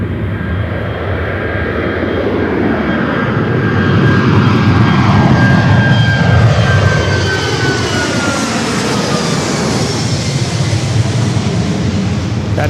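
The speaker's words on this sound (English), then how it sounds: "That is Southwest Airlines 697 taking off to Houston Hobby on the MAX 8." A Southwest Airlines Boeing 737 MAX 8 takes off from LAX bound for Houston Hobby. Its loud, close engine roar carries a whining tone that slowly drops in pitch as the jet passes and climbs away.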